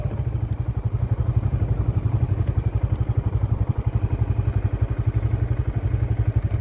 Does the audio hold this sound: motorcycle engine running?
yes